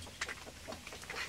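Free-range village chickens in a coop during natural egg hatching give soft, faint clucks and short peeps, brief and distant over a steady background hiss.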